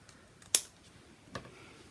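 Two crisp snips of scissors trimming the edge of paper on a handmade notebook, close and quiet, with silence around them.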